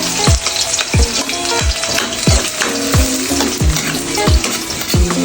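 Garlic sizzles loudly in hot oil in a pan for coconut milk adobo, with steady frying crackle and regular stirring scrapes about once per second, close up and with no talking.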